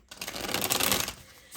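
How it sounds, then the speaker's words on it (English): Tarot cards are shuffled in a quick riffle, a brief, close, crisp flutter of rapid card clicks that fades after about a second. "One last shuffle here."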